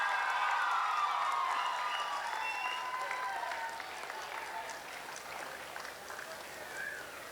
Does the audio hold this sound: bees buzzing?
no